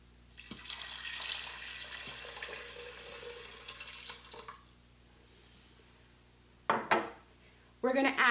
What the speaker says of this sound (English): Now we're going to go ahead and add the 5 cups of water.